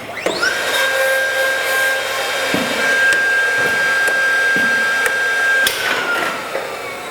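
A CNC machine runs a pre-drilling pass in its calibration sequence, giving a steady high whine that holds for several seconds amid brief clicks and motor noise, with no talking.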